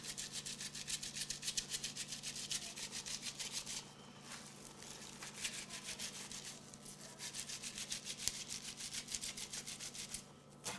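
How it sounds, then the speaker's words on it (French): Kale leaves are massaged by hand with a pinch of salt while making a winter salad with orange, farro and avocado, giving a steady, close rhythmic rubbing and scrunching that pauses briefly midway before resuming. "À mon kale, je vais venir ajouter un peu de sel, comme ça, et là maintenant, on masse."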